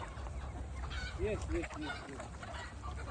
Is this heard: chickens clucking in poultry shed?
yes